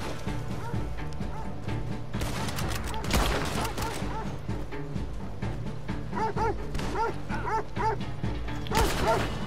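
A dog in the video game Red Dead Online barks and yips repeatedly and loudly in rapid bursts, mixed with busy game sounds and bursts like gunfire.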